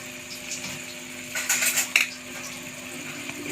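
Utensil stirring Knorr chatpata noodles with chilli sauce and soy sauce in a pan, a steady soft scraping with a brief louder burst of clinks and scrapes midway, close and alone with no talk.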